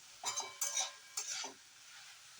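Methi leaves are sautéed in a pan with a few spatula strokes scraping and stirring over a faint sizzle, quiet and close, in short bursts separated by near silence.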